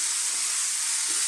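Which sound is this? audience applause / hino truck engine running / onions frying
onions frying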